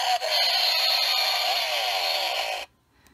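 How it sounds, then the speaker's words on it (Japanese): A buzzing, revving chainsaw attack sound effect from a Kamen Rider Ex-Aid Gashacon Bugvisor II toy runs loud and continuous for a few seconds, then cuts off abruptly into near silence. "チェーンソーの攻撃音が発動しますね。"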